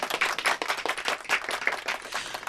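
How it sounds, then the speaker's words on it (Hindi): Studio audience applause on a Hindi radio-style music show, dense clapping in a steady wash with rippling peaks, moderately loud and with no voices over it. "इस जुगल जोड़ी के लिए जोरदार तालियां,"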